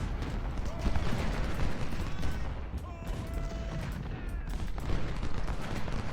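Massed rifle volleys from a Civil War battle in Ultimate General: Civil War, with dense, continuous crackling fire and rumbling booms throughout.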